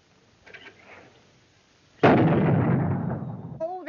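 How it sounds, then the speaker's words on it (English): Firecrackers set off on the Fourth of July burst into a sudden loud, crackling roar after a couple of faint pops, then the dense rattle slowly dies away. A brief voice-like tone cuts in at the very end. "They can shoot off all the firecrackers they want."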